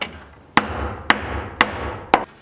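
Four sharp hammer blows strike a board being knocked into place during a home remodel, evenly spaced about half a second apart, close and distinct with no talk.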